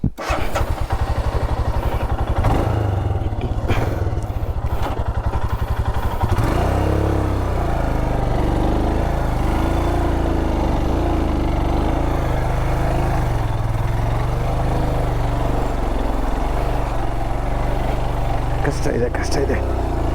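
Motorcycle engine labouring and sputtering on a steep forest road, air-locked, its uneven revving rising and dipping throughout, loud and close, with a voice talking over it.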